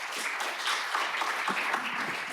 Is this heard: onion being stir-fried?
no